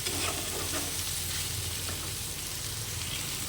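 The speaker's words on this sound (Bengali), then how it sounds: "এই সব কিছু দিয়ে ভালো করে সবজিটাকে একটু কষিয়ে নিতে হবে খুবই কম তেল মশলাতে রান্না করব" Mixed vegetables sautéed in a pan with very little oil and spices: a steady close hiss of frying with faint scraping of a stirring spoon, unbroken throughout.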